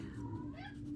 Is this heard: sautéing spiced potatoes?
no